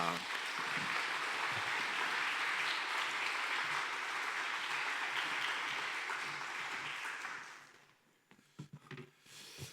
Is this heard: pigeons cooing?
no